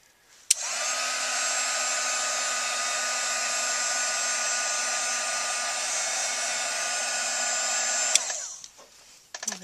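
A handheld heat tool sets glitter on scrapbook paper, blowing a steady, loud, even whoosh for about eight seconds before switching off, with no talk.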